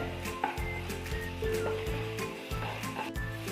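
Ginger and garlic sizzle and fry in a pan for noodle chapati, a steady crackling hiss with a spoon occasionally stirring and scraping, close and fairly loud with no talking.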